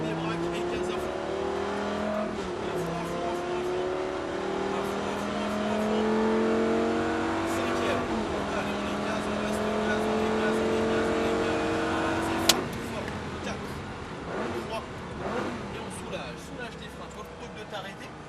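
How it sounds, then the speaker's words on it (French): Race car at full throttle on a circuit during a driving course: a loud engine rises in pitch through the gears, then a sharp knock and further revving. "Et on débraque et gaz à fond."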